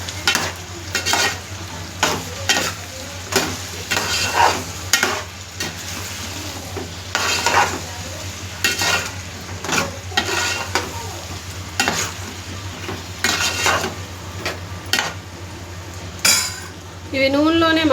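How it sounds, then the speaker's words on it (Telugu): Tomato, onion, salt and turmeric fry in oil for kalagalapula curry while a utensil stirs and scrapes the pan, giving a steady close sizzle with repeated metallic clinks and scrapes. "దీన్ని ఇప్పుడు మంచిగా కలుపుదాము."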